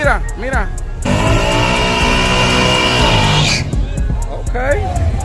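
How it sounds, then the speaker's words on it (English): A Chevrolet Camaro engine at a street hood-track racing event revs hard for a few seconds in one sustained roar, with shouting voices and sharp clicks before and after. "Sound like a Camaro."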